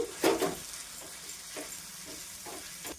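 Boiled potatoes sauté with spice masala in a pan for aloo patties, a soft constant sizzle with a louder scrape of stirring at the start and a few faint stirring strokes after, with no voices.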